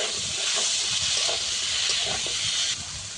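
Ground spice paste frying in a pan for a pond-fish and Malabar spinach curry, giving a steady close sizzling hiss that runs unbroken throughout.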